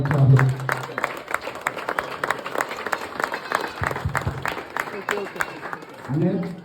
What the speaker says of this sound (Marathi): आपण सगळ्यांनी स्वागत करताना टाळ्या वाजवायच्या आहेत.